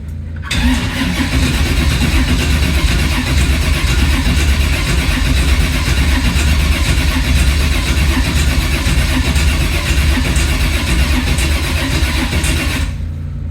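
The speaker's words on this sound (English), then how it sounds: "I'll try cranking her again." 1980 Camaro engine cranking and running loud and close, a steady dense roar with constant level for over ten seconds, no voices over it.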